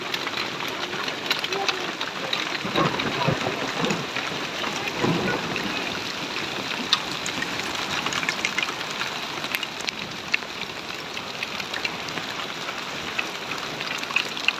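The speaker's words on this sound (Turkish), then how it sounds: "Geceyi bir dolu yağışı var." Hail pelting down on a highland pasture at night, a dense, steady hiss of pattering ice that holds at an even level throughout.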